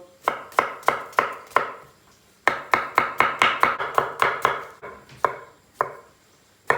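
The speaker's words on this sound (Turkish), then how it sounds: "Soğanı az doğrayın." A knife chops an onion on a cutting board in quick bursts of sharp, close taps, with a pause, then a longer run and a few slower final cuts.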